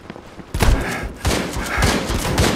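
Shotgun blasts in the World War 3 video game during a Moscow team deathmatch: a few heavy, close booms in a loose rhythm, each with a deep thump and a noisy tail, over a low battle din.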